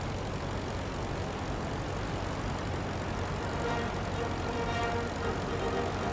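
Aircraft engine in the Rise of Flight WWI flight simulator, throttled down on final approach, gives a steady, continuous drone with a low hum and broadband rush at even loudness, with no voices.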